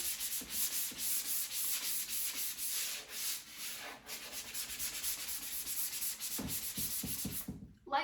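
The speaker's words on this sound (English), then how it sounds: "scuff sand like that over the entire area that you plan on painting" Steady rhythmic scratching of sandpaper lightly scuff-sanding the finish on wooden furniture, rubbed back and forth, close up and continuous, with no talking.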